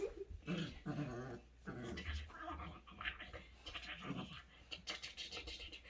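A Cane Corso puppy growls and grumbles up close, the low snarling rising and falling with a few scratchy, panting moments mixed in.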